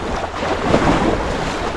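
Waves on a lake slap steadily against a bass fishing boat, with wind noise buffeting the microphone; the choppy wash is loud and continuous with no talk.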